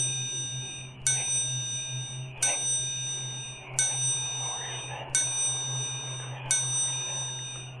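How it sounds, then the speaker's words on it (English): A Ring doorbell camera captures a doorbell chiming about six times at a steady pace, each bright ding ringing out over a constant low electrical hum. "He proceeds to knock and ring the doorbell."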